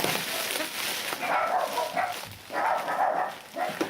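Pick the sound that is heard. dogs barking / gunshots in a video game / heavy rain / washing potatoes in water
dogs barking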